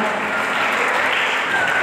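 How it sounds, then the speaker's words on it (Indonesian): Congregation at a church Christmas celebration claps in unison, a loud, thick burst of many hands heard up close through the whole short moment. "tepuk tangan buat Tuhan Yesus kita"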